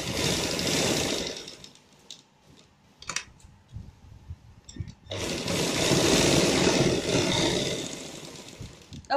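A sewing machine stitches a dress neckline in two stretches of steady whirring, separated by a quieter pause with small clicks and handling sounds.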